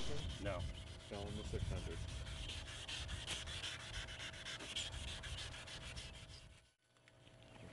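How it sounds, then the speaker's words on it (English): Wet sanding of a car headlight lens with the 600 grit side of a sanding block, a steady rhythmic rubbing and scraping that continues close and clear, with a brief pause near the end. "Simply re-wet the lens and hit those spots one more time with the 600 grit side."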